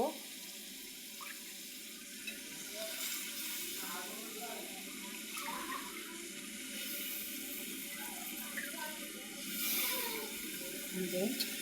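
Fish is added to well-cooked spice paste in oil for a bottle gourd curry and fries with a continuous, watery broadband sizzle that swells slightly toward the end, with a voice faintly present at times.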